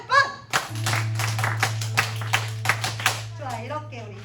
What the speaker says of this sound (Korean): 박수를 10번.